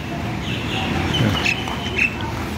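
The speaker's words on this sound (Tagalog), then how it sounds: "Ayan o, ibon." A bird calls near a lakeside swimming pool, with a few short bright chirps standing out over steady outdoor background noise.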